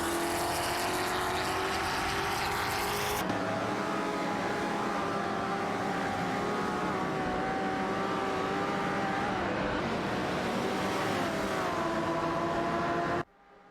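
Chevrolet Corvette C3 and Ferrari 250 GTO racing in a video game, with sustained engine drones that rise and fall in pitch as the cars hold speed, then cut off abruptly at the end.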